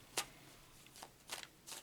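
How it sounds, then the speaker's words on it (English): A deck of tarot cards is shuffled in quick, soft bursts, with three or four faint riffling swishes separated by brief pauses in a quiet room. "I shuffled up the cards, but I just want to go through them again"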